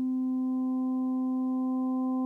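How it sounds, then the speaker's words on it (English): Steady sine tone from an Erica Synths Fusion VCO oscillator being wave-shaped, holding a strong fundamental with a few clean harmonics, sustained and even throughout with no talk. "This sine wave can be bent in one of two different directions."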